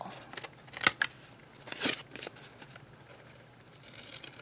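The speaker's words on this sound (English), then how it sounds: "And then we just cut at an angle." Scissors cut paper at an angle for a flip book album, giving two quiet, crisp snips about a second apart against a faint room background.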